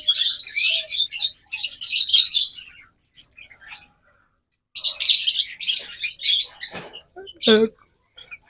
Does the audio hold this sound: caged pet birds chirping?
yes